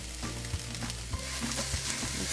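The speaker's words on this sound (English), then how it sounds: "I'm gonna add our garlic and ginger." Garlic and ginger hitting a hot pan of tender vegetables for fried rice, a loud, steady close sizzle with rhythmic stirring scrapes cutting through it.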